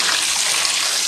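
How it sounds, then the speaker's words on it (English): Hand-dyed yarn is rinsed under running water to wash out excess dye, with a steady, loud, close splashing rush of tap water that continues without a break. "you keep washing until the water runs clear and no more dye comes out of the yarn"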